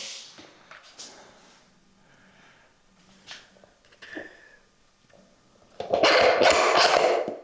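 A dog barks loudly in a rapid burst near the end, after quieter scattered snorts and shuffling sounds close by.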